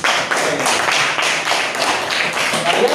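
Students in a classroom clap together, a dense, steady burst of many hands close by, sustained loudly throughout.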